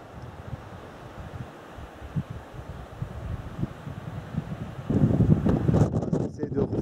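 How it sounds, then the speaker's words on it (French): Strong wind gusts buffeting the microphone on a Jura mountain ridge, a low roaring rumble that swells into a heavier blast near the end, with a voice talking faintly underneath. "Il y a vraiment beaucoup de rafales de vent."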